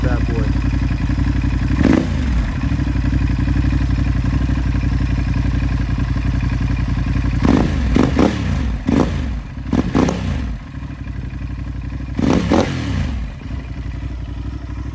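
Ducati Hypermotard with a Termignoni full exhaust system idling loudly nearby, broken by several quick throttle blips in short clusters that rise sharply and drop back to a rumbling idle.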